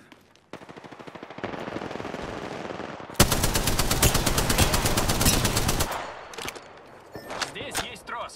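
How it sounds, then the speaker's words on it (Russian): Rapid automatic gunfire from an Apex Legends match, a dense burst of loud repeated shots lasting several seconds, with sparser shots before and after and a player's voice talking between bursts. "Стреляем!"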